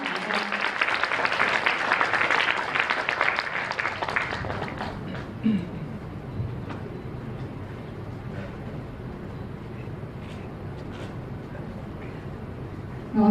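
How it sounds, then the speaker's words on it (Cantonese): Wedding guests break into loud, dense applause during a ceremony. The clapping lasts about four seconds, then fades into a quieter murmur of room ambience with a few faint thumps. "請大家俾熱烈嘅掌聲"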